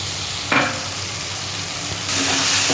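Paste of cashew, fennel, ginger and green chili frying in a pan, a steady hiss with a short sizzling burst near the start and a louder, fuller sizzle toward the end, close and without talking.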